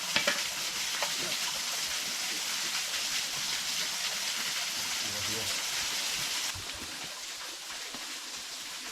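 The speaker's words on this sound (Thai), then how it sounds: "นี่ครับทุกคนก็เมนูแรกนะครับทอดไข่เหมือนเดิมนะครับผม" Eggs fry in a pan at a campsite deep in the forest beside a cave, with a steady broadband sizzle running throughout that drops slightly in level toward the end.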